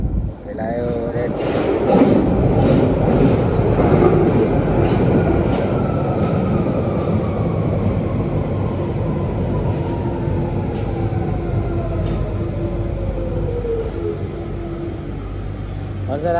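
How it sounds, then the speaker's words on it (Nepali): A train pulls into a London station at night, a loud sustained rumble of wheels and carriages with rising and falling squeals as it brakes to a stop, while people talk over it. "ट्रेन आयो गाइस।"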